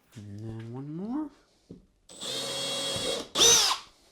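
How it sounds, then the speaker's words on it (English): A power drill whirs steadily for about a second, then rises into a higher-pitched whine as it bites through a kayak hull, following a short stretch of speech. "I'm just going to drill straight through it"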